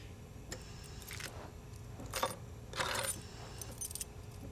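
Car keys jingle and clink in a few short metallic bursts, faint and close, against a quiet room with no talking.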